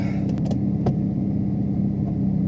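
A Mazda RX-7 engine idles steadily at about 1,000 RPM with a low, even rumble, with a few faint clicks and taps over the top.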